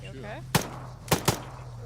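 Airsoft guns firing during a jungle milsim game, three sharp cracks, one alone and then a quick pair, with a brief voice and radio hum underneath.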